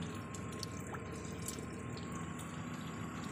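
Coolant flushing from a Proton Saga with a Renault 1.2 engine, a steady hiss of running liquid with faint drips, continuous and even throughout.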